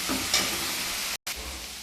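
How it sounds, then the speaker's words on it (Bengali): Chopped banana stem fries in a pan, a continuous close hiss and sizzle with light stirring, briefly cut off by a short silent gap before the sizzling resumes. "আস্তে আস্তে করে এটা ভেজে নেবো থোরটা আমি"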